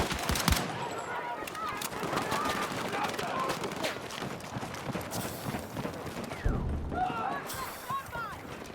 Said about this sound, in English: I'm watching bullets like whiz past my face